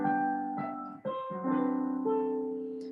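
Broken chords played on a piano, with separate notes rolling one after another in a fluid, even rhythm and ringing close and clear, with no voices.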